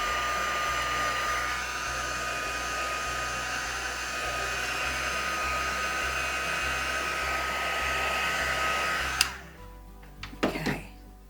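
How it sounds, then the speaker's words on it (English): A heat gun blows steadily to dry paint on a craft piece, a loud continuous whooshing roar with a faint whine that cuts off near the end, followed by a few light knocks. "just going to grab the heat gun. And give that a bit of an extra dry"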